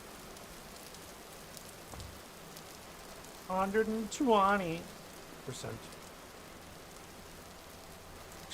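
Steady hissing rain falls in the block-building survival game Vintage Story, viewed beside a big window, a soft even wash throughout with someone briefly talking over the middle.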